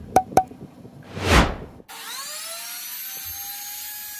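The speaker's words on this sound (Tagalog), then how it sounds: "Ngayon, magbubutas tayo ng pabilog gamit itong palm router." A Lotus 550 W, 220 V palm router cutting a circular hole: a couple of sharp taps and a brief rising whoosh, then the motor spins up with a steady high whine that holds alone at even loudness.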